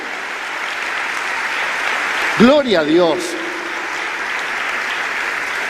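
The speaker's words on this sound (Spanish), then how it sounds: "Le damos un aplauso a esta palabra." A church congregation applauds together during a Spanish-language sermon, a steady broadband wash of clapping that fills the whole clip, with a brief spoken exclamation rising over it partway through.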